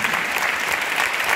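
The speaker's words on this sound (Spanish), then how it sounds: "os pido un enorme aplauso para estos señores de Mediana Edad" Audience applause for the panelists of a round-table discussion on technology and creativity, a dense, steady clapping from a crowd that fills the whole moment at even loudness.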